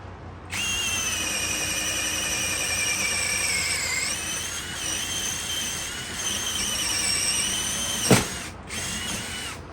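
A cordless drill/driver, either a HyperTough brushless or a Milwaukee M12 Fuel, bores a hole in first gear with a loud, steady whine that sags briefly under load. Near the end a sharp squeal sweeps down, then the motor cuts off and restarts.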